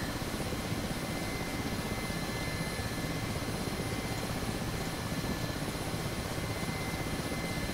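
Constant, dense whine and rotor drone of a Mi-8 helicopter's engines in the DCS flight simulator, loud and unbroken throughout with no talk over it.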